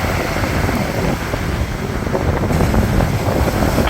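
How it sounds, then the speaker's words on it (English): Loud, constant wind buffets the microphone on a seaside fishing spot at Seaton Carew, Hartlepool, a broad roaring rumble with no other clear sounds. "Sorry about the wind as well, can't be helped."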